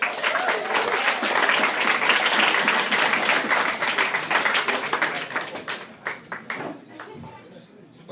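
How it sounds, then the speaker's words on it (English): Audience at a Yuk Yuk's comedy club applauding a stand-up set, a dense, loud wash of clapping that holds steady and then thins out and fades toward the end. "That's a lot more applause than I usually get"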